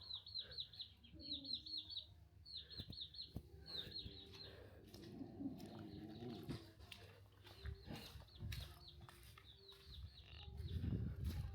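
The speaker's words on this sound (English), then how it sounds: "Wow, many chickens." Chickens at a rural farmyard in Vietnam cluck and call on and off at moderate distance, mixed with other farm animal sounds, rustling and light outdoor ambience.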